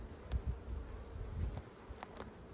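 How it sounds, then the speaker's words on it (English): Honey bees buzz around an open hive outdoors, a dense steady hum with a few louder passes as individual bees fly close by. "Interesting to see all these bees."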